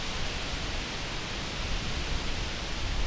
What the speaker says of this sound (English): I'm going to be competing with the wind as I talk